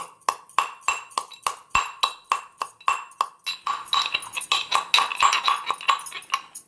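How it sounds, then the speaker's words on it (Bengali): Tender leaves pounded into a paste by hand, a steady close series of sharp, evenly spaced thuds repeating about three times a second and quickening slightly toward the end, with no talking. "এই কচি পাতাগুলো দিয়ে দেব, দিয়ে ছেঁচে নেব, দিয়ে একটা পেস্ট মতন বানিয়ে নেব"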